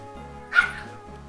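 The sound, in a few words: dog barking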